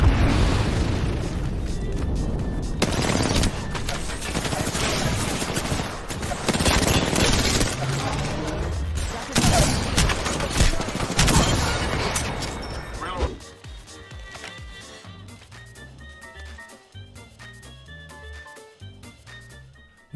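Apex Legends gunfire from a Sentinel sniper rifle and an R99 submachine gun crackles in sharp shots and rapid bursts for about thirteen seconds before giving way to quieter game sounds, with a commentator talking over it.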